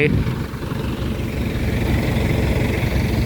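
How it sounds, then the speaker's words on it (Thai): A six-wheel truck's engine rumbles steadily and loudly, a deep continuous throb close by, likened to a walk-behind farm tractor. "คันนี้ลั่นดีอะ เออ มันไอเขาเรียกไอรถไถเดินตามอะ เออเหมือนรถไถเดินตามเลยอะรถไถแปดสูบอะ"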